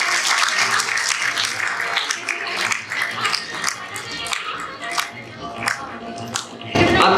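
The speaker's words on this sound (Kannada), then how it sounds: "ದಯವಿಟ್ಟು ಎಲ್ಲರೂ ಜೋರಾದ ಚಪ್ಪಾಳೆಯೊಂದಿಗೆ" Loud applause from the audience at the Karnataka Rajyotsava award presentation ceremony at Gulbarga University, a sustained dense crowd clapping that carries on steadily throughout and swells again at the end.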